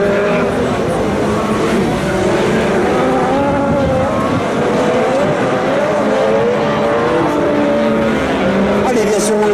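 Rally cars race past, a Citroën Xsara chasing Ludovic Thiberville's VW Polo at the Plouay 2017 event. Loud engines roar and whine continuously close by, while a commentator talks over the racket.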